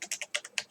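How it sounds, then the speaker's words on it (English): Quick typing on a computer keyboard while writing Java code, about seven crisp close key taps in well under a second, clear and alone. "Next, we're going to type"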